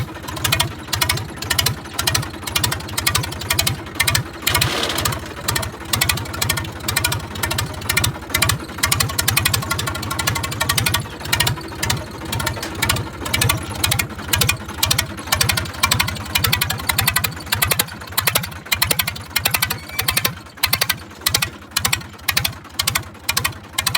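Tractor engine running loud with its silencer removed, a harsh rapid chugging exhaust pulse that stays close and steady, rising slightly as the throttle is pressed, with no talking.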